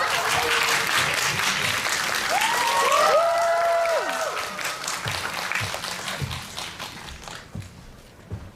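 Audience applause with scattered cheers at a cinema screening event in Yongsan as a three-member band is welcomed, loud and sustained at first, then thinning out into a few remaining claps.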